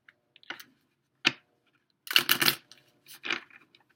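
Tarot cards are shuffled in a few short, crisp bursts, with one longer riffling flurry in the middle; close and quiet, with pauses between.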